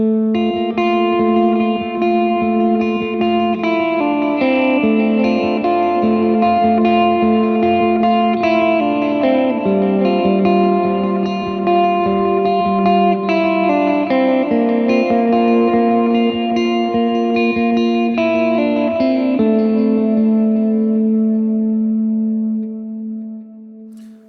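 A mellow electric guitar with the tone knob rolled off gives a dark, rounded tone, playing a flowing melodic part with chorus and echo, steady and loud before fading at the end.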